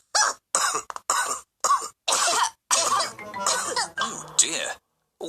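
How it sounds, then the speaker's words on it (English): Cartoon coughing among grown-up characters, a series of repeated harsh coughs in separate bursts with throat clearing, mixed with voiced vocal sounds in an animated children's scene. "all the grown-ups have caught Pedro's cough"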